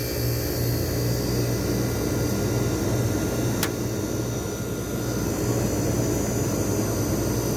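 A 1978 Comfort Aire 12K window air conditioner with its compressor running, giving a steady, fairly loud low hum and broad airy whoosh that stays constant throughout, with one brief faint click partway in.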